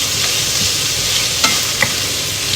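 Radish, carrot and burdock sauté in a pan for tonjiru, giving a loud, bright, continuous sizzle with two or three quick utensil scrapes, up close and with no voices.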